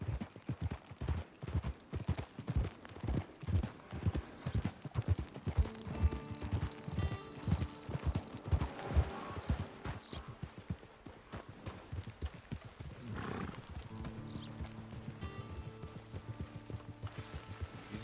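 Horse hooves clip-clop in a steady rhythm in Red Dead Redemption 2, loud and close at first and then slowing, with brief whinnies and music-like tones behind them later on.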